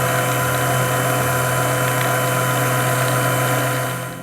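Electric mixer whirring steadily at a raised speed while blending fresh mayonnaise of egg yolks, a loud continuous motor hum with a smooth churning layer, close and unbroken, fading slightly at the end.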